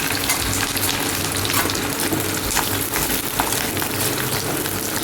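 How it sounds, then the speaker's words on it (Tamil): Shallots, garlic, curry leaves and green chilies fry in hot oil, giving a steady, loud, dense sizzle with light crackle. It runs unbroken from start to end, with no talking. "சின்ன வெங்காயம், வெள்ளைப்பூடு, கருவேப்பிலை, பச்சை மிளகா போட்டுக்கணும்."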